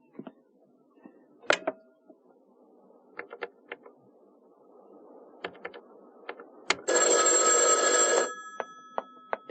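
A telephone rings once in a long, bright burst of about a second and a half, standing out against a quiet room with scattered clicks and small knocks before and after.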